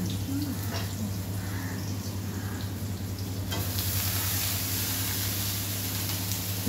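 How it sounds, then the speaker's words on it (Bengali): Eggplant (brinjal) slices frying in a pan give a steady, close sizzle that grows louder and hissier partway through, with faint stirring noises. "বেগুনগুলো দিয়ে দিল, বেগুনগুলো শুধু ভালো করে একটু ভেজে নিতে হবে।"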